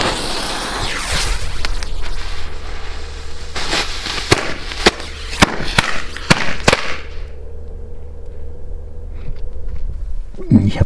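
Old Dutch jumping firecrackers (Knallfrösche) setting off a rapid string of loud, sharp bangs outdoors, then a quiet tail of fizzing, with people talking.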